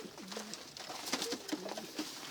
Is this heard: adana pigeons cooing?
yes